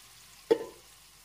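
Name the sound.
pouring boiled lentils into frying pan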